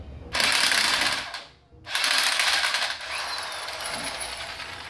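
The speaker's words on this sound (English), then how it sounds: "We managed to crack the bolt open, so this impact should work now." An impact wrench hammers loose a car engine's crankshaft bolt in loud, sustained rattling bursts, a brief pause near the two-second mark splitting the first burst from a longer second run that gradually eases.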